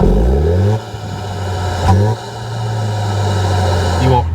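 A 2025 Toyota 4Runner Trailhunter with a lifted air intake revs in neutral, engine tone rising and falling in loud strong harmonic sweeps, with a brief blip midway and another climb at the end.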